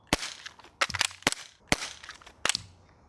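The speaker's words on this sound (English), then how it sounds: "The base plate broke after falling on the ground one time." An airsoft pistol magazine hits the ground and its base plate breaks, giving four sharp, loud plastic clacks spaced unevenly, some followed by a short rattle.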